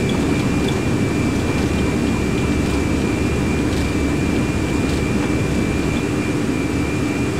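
Boeing 737 Classic jet engines roar at takeoff power during rotation, a loud, steady and unbroken wall of noise with a thin high whine running through it, heard from on board the aircraft.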